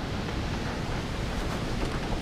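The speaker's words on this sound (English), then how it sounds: "Surf's up. Look at those waves." Ocean waves breaking on a beach at Cabo San Lucas, Mexico, heard as a steady, loud wash of surf with wind rumble over the microphone and no talking.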